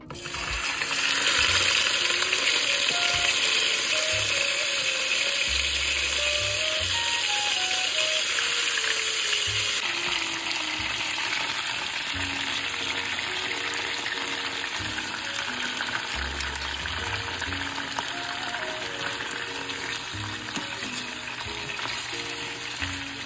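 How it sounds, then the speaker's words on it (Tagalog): Chicken adobo pieces frying in cooking oil in a pan, a constant bright sizzle running throughout with occasional clinks and stirring scrapes, close and moderately loud, with music playing underneath. "So, lalagay tayo ng mantika. Ipa-fry lang natin yan."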